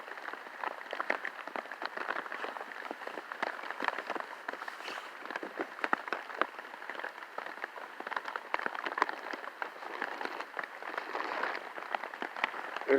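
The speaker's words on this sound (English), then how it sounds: "it started raining." Steady rain falling outside at daybreak, a dense, even patter of drops that keeps going throughout at a moderate distance, with no voices.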